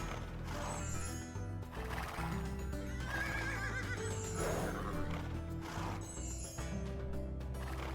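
Horses in the Age of Empires II video game whinny and neigh repeatedly over a continuous game music bed, with faint hooves clopping and no talk.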